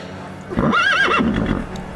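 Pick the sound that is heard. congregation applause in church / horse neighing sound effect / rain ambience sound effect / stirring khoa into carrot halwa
horse neighing sound effect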